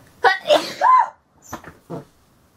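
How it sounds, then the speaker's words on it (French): A sharp sneeze bursts out, followed by short breathy sounds and a brief second burst, close and fairly loud with quiet gaps between. "Je vais éternuer."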